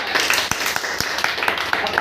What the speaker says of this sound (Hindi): जोरदार तालियां डीटीएम के लिए